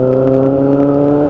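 Kawasaki Z800 motorcycle fitted with a Toro exhaust, revving steadily up close, a loud, sustained engine drone with strong, even tones and no voices.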